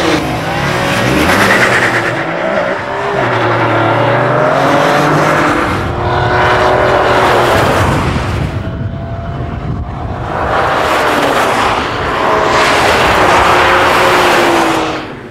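A McLaren F1's high-revving engine screams through repeated gear changes, rising and dropping in pitch as it accelerates hard, loud and close.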